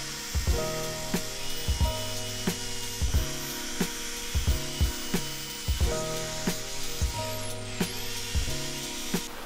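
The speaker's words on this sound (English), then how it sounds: "I'm gonna sit there and use the band file, get the hole right, file down to that line." A band file rasping a hole in a plastic gauge pod for a Crown Victoria, close up, in repeated rhythmic back-and-forth strokes of roughly even pace, with a faint whine in the background and no talking.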